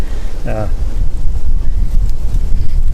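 Strong outdoor wind buffeting a microphone on a hike, a continuous loud low rumble with gusts throughout, alone without talk.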